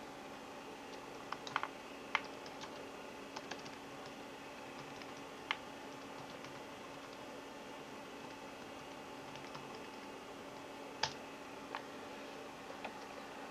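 Light typing on a computer keyboard of a Mac Mini setup, sparse individual key clicks and short clusters of taps spread across a quiet, hissy background, with no talk.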